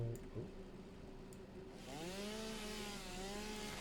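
A video game chainsaw revs up and bites into wood, its buzzing engine note rising partway through and holding steady and close until the end.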